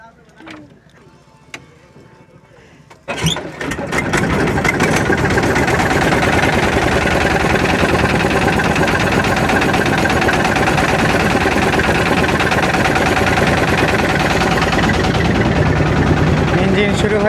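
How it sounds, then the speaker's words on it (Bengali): A hired boat's engine on the Jamuna river near Chauhali, Sirajganj, sputters and catches after a few seconds of quiet, then settles into a loud, steady, close idle that runs without a break. "ইঞ্জিন শুরু হয়ে গেছে।"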